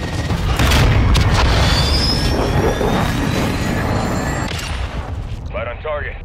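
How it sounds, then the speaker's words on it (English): A cruise missile strike in Call of Duty: Modern Warfare II, a loud, sustained rumbling boom with a rising jet-like whine that rolls on for several seconds before tapering, a voice briefly heard at the end. "Cruise missile inbound."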